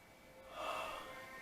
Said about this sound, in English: And I'm yawning.